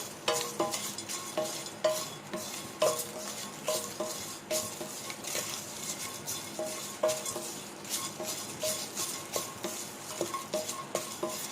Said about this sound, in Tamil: ஜாதி பத்திரியும் பிரியாணி இலையும் ஒன்னாவே போட்டுடுறேன். ஒன்னா போட்டுட்டு லேசா வறுத்தா போதும்.